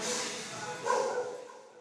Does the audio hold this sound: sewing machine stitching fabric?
no